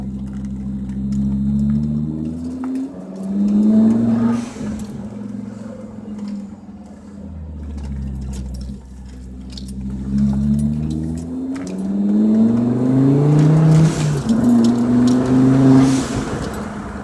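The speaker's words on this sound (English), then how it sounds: "I love this Volvo, by the way. S60R. 6-speed. Very nice." A Volvo S60R with a 6-speed gearbox drives along, its engine droning and climbing in pitch through repeated rev rises and gear changes, steady and fairly close with no talking.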